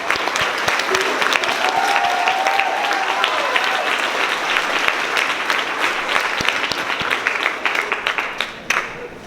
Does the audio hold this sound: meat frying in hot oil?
no